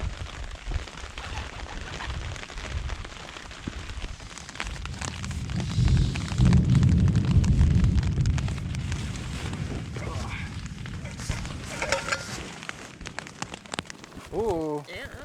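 Thunderstorm over a lake on the Fourth of July: a loud low rumbling swell of thunder builds in the middle and fades, over steady rain hiss, with people talking nearby.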